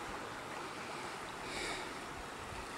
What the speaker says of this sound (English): heard water and decided to make a slight detour